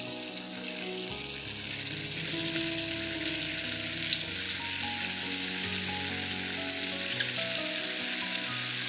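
Tofu pieces fry in about two tablespoons of hot oil over medium heat, giving a loud, dense, unbroken sizzle close to the pan, with a low hum underneath and no talk.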